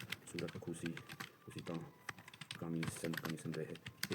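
Fast, continuous clatter of keys on a computer keyboard during a Hindi typing test, steady rapid tapping with a voice speaking over it throughout.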